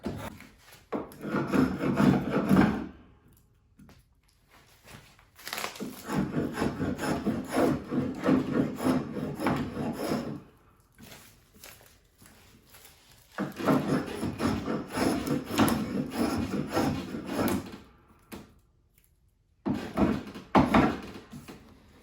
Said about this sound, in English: my spoke blade, and we'll trim it down on both sides